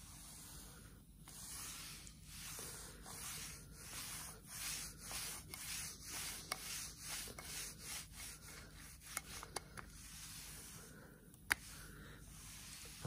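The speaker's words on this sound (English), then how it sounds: "I've done most of it around the side." A wooden chopping board being hand-sanded, with steady back-and-forth rasping strokes in an even rhythm, close and fairly quiet, with a few small knocks.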